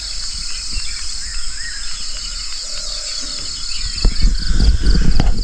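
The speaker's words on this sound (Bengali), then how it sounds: "চারিদিকে পাখির ডাক" Birds calling around a hillside at dawn near Darjeeling, continuous chirps and trills over insect hum, with low rumbling noise growing toward the end.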